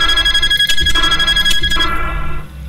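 A phone rings in a Five Nights at Freddy's fan game set in a warehouse. The ring is a loud, steady, repeating electronic trill that continues for over two seconds and then cuts off.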